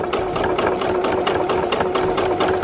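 A sewing machine stitching a fabric hem runs at steady speed, its needle producing a fast, even, whirring chatter up close, uninterrupted and without voices.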